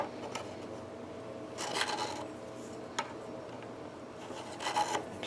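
Scratchy crackling noise from the worn controls of a Fender Squier Mustang electric guitar, coming in several short rough bursts over a steady amplifier hiss.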